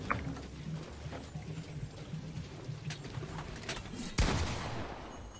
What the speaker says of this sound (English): Why are you shooting? I don't know, just to flex my spaz.